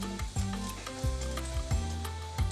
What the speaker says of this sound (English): Into my pot, I am adding 3 cloves of garlic,